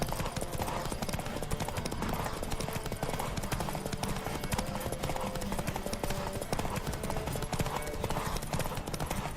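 Hooves of a horse galloping in The Witcher 3 beat out a rapid, continuous clip-clop, loud and close, mixed with the game's background sound and a hint of voices.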